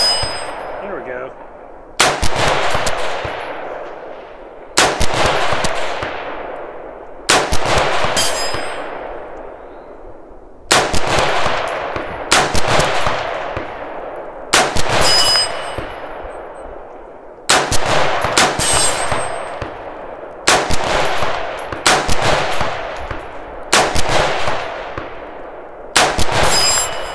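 Rifle shots strike AR500 steel targets at roughly 300 yards, about a dozen loud reports spaced a few seconds apart, each followed by a ringing metallic clang that fades away.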